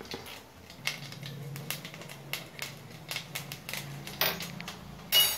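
Urad dal and cumin seeds crackle and spit in hot oil, a dense scatter of small sharp pops over a low sizzle, with a few louder bursts near the end.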